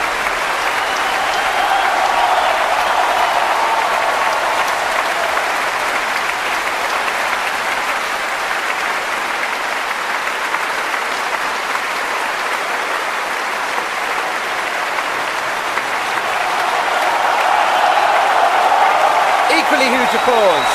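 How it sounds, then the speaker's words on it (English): Dense, sustained applause from a Proms concert audience after a performance of Wagner's Die Walküre in 2005 rolls on steadily and loudly for the whole stretch, swelling slightly near the end. "Equally huge applause, as you might expect"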